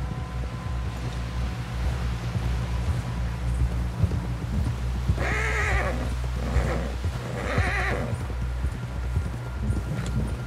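Rhythmic hoofbeats of a galloping horse in Red Dead Redemption 2 under a constant low rumble, with a horse whinnying twice in the middle.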